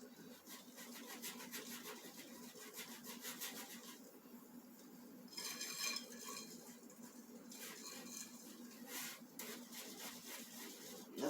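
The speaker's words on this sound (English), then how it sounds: "I'm just mixing it this way." Thick pecan pie filling stirred by hand in a bowl, with a steady faint scraping and rubbing of the utensil against the bowl, continuing at an even pace and slightly louder near the middle.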